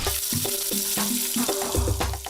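Sweet potato frying in hot cooking oil, a steady loud sizzle with clinks and scraping from stirring, tonal hums running underneath.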